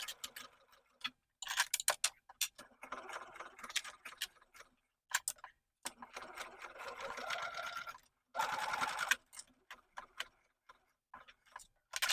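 Sewing machine stitching a seam on a fabric pouch, running in several bursts of rapid whirring separated by pauses and small clicks, close and fairly quiet, no talking.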